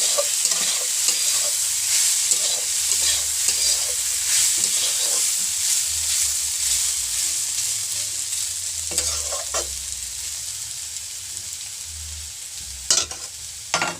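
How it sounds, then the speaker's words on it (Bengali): Potatoes fry in a hot pan with a loud, continuous sizzle, while repeated scraping strokes of a spatula stir them throughout and a couple of sharper clacks come near the end. Nobody speaks. "আর এখানে আমি কটা আলু ভেজে নিচ্ছি"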